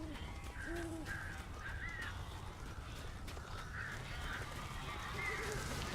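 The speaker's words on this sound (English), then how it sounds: "These birds are weird." Crows cawing in the video game Alan Wake, a series of rough caws at moderate distance over a steady, murky ambient rumble.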